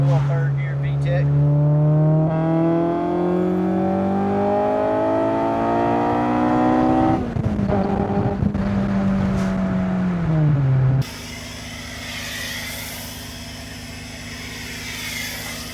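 Honda Civic hatch engine revving hard through third gear into VTEC, a loud rising tone climbing steadily, dropping at a shift, then cutting to a lower steady hum, with a voice talking over it.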